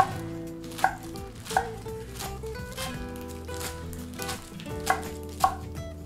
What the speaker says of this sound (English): I'm going to start chopping the rest of the chard.